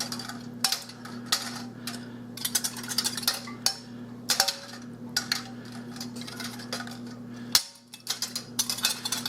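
Metal canning jar lids and screw bands being fitted onto jars of homemade strawberry peach preserves in a kitchen, giving a scattered run of light clinks, ticks and taps over a steady low hum.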